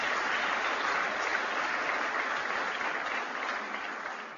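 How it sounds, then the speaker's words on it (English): Sustained applause from a crowd at a political rally in Indiana, a dense, even wash of clapping that holds steady and starts to taper slightly toward the end. "And we can give another round of applause"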